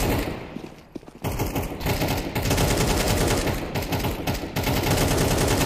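AK rifles fire in Counter-Strike 2 in loud, sustained automatic bursts of rapid gunshots, with a brief lull near the start before steady heavy fire resumes and continues to the end.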